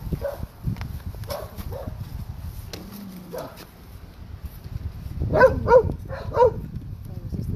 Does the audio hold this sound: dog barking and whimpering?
yes